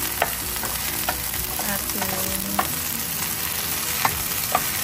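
Mixed vegetables including bok choy fry steadily in a pan, a continuous close sizzle broken by periodic utensil clinks and scrapes as they are stirred; no one speaks.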